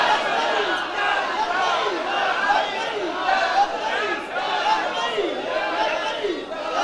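Large crowd at a religious gathering responding to a preacher's call for a slogan, massed voices rising and falling in repeated chant-like swells, continuous and fairly loud.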